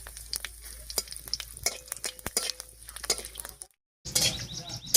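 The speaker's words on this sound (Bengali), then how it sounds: "তেল গরম হয়ে গেছে, এবারে গোটা জিরা, 2টো শুকনো লঙ্কা আর তেজপাতা দিয়ে ফোড়ন দিচ্ছি" Whole cumin, two dried red chillies and a bay leaf crackle and sizzle in hot mustard oil in a kadai, with busy close popping and spoon clinks, then a brief silent break and a louder burst of frying.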